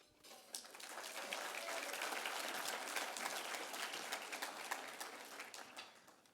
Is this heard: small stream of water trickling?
no